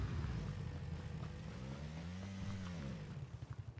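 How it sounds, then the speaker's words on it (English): In the PUBG battle game, a dune buggy's engine drones and revs faintly in the distance, its pitch rising and falling as it moves, with no talk. "Car is right above us."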